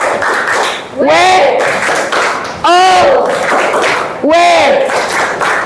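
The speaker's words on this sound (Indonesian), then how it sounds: "kita kasih lagi tepuk wow" Group clapping chant in an Islamic study class led by an ustazah: three rounds of quick rhythmic claps, each ending with voices shouting together in a rising and falling cry, loud and close.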